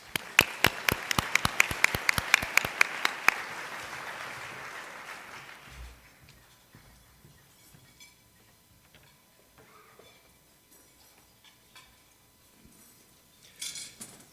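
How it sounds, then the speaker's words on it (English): Crowd applause at the San Antonio State of the City address, loud and dense for about five seconds with sharp claps, then fading into a quiet room with faint rustling and a brief burst of clapping near the end. "Please join me in giving all of our sponsors a round of applause."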